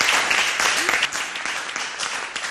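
An audience at a French-language talk show claps steadily for a few seconds, dense and fairly close, with a voice briefly audible beneath the applause.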